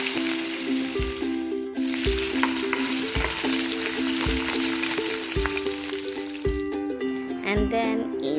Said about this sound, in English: Add some chopped onions to the oil.